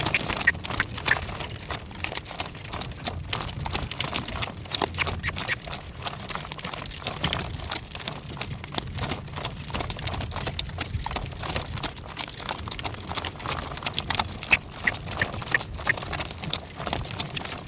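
Steady clopping of hooves in a continuous walking rhythm, close and moderately loud, with a rustling background.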